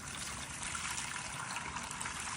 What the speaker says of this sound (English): I'm just giving these guys a little tub of drinking water.